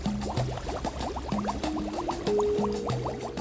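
Holy water on an altar boils violently around an egg set into it, giving a steady, loud bubbling with gurgling, rising tones throughout, and no voices.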